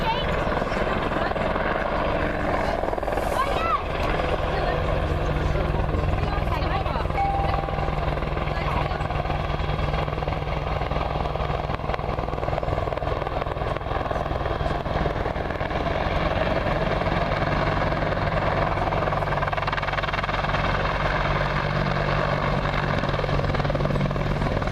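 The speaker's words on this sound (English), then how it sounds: "the British Army Apache attack helicopter" A British Army Apache attack helicopter flies at an air show, its loud, steady rotor and turbine roar filling the air continuously with a faint rhythmic thump throughout.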